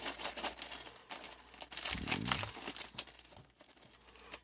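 Plastic packaging of a new action figure crinkles and crackles up close as it is opened, in short irregular bursts with no talking.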